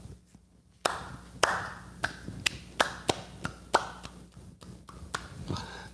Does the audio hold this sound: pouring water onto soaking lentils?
no